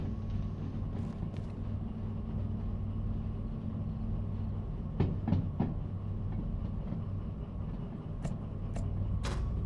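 Train in the Derail Valley simulation rolling steadily along the rails, a continuous low rumble with faint clicks and brief squeals, no voices.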